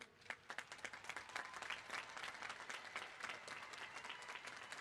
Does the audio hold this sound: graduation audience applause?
yes